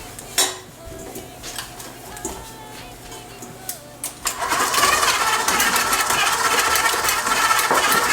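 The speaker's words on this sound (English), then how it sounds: "So I have my KitchenAid stand-up mixer all ready, and I'm going to beat together" KitchenAid stand mixer starting to beat butter: a few light clinks and knocks, then the motor spins up into a loud, steady whirring churn that carries on to the end, close by with no talking.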